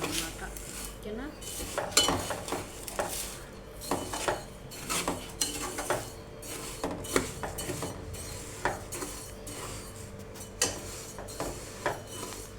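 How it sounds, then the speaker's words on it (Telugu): A utensil scrapes and clinks against a pan while energy powder is stirred and dry-fried, with rhythmic metallic knocks and a soft gritty rustle repeating steadily close up. "సో అది కూడా చూసుకుంటూ కలుపుకుంటూ ఫ్రై చేసుకోవాలన్నమాట"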